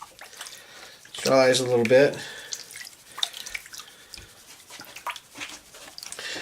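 Water is poured into a gold pan holding sand and gravel, a brief splashing gush followed by soft dripping and trickling while someone talks over it.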